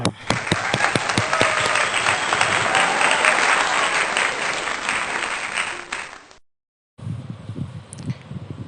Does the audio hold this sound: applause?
yes